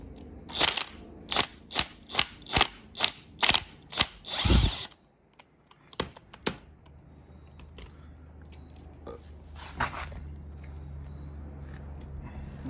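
Short bursts of an impact wrench rattling on bolts of a crusty 1968 Charger 383 big block engine, about eight quick rhythmic hits close by, then quieter shop clatter and a few faint clanks.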